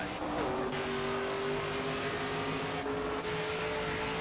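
Race car engines droning and revving in NASCAR 25, a steady loud roar with a rising engine tone near the start, while a voice talks over it.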